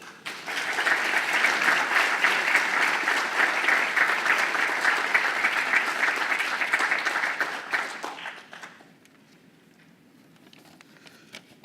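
An audience in a lecture hall claps steadily to welcome a speaker, a dense, even wash of applause lasting about eight seconds before fading to quiet room noise.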